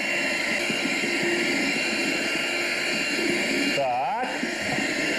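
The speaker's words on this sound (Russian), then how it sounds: "Взбить блендером сметану." A blender whips sour cream, whirring continuously with a steady, loud, high-pitched hum that briefly changes pitch near the end, as if the load shifts.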